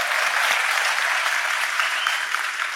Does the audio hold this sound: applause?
yes